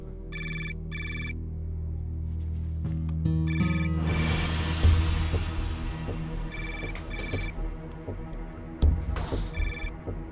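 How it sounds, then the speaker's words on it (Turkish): A mobile phone ringtone sounds in repeated short bursts of bright tones, loud and close, over a steady low background that later turns busier and more cluttered. "Telefonun çalıyor."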